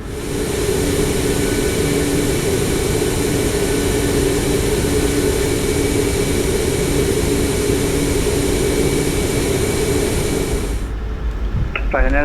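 Ryanair 737 MAX 8 jet engines idling during taxi in a flight simulator, a steady loud drone with a constant whine layered over a low rumble, cutting off abruptly near the end.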